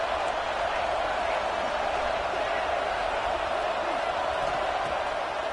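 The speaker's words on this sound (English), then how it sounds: "Listen to the crowd energy here in the early going." A football stadium crowd at a Georgia Bulldogs versus Auburn game keeps up a steady, dense roar that blankets the whole moment without clear peaks.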